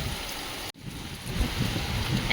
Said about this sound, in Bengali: বৃষ্টির সঙ্গে কিন্তু ঝুড়ো হাওয়াও বইছে।